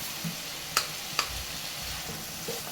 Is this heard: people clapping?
no